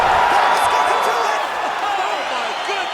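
A virtual arena crowd roars and cheers after a knockout in UFC 5, a loud sustained wall of noise that eases slightly partway through.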